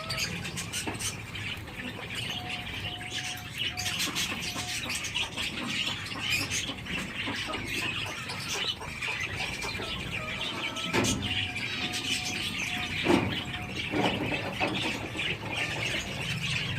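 Finches chirp and squawk continuously in a busy flock, with overlapping short calls and a steady chatter of small birds nearby throughout.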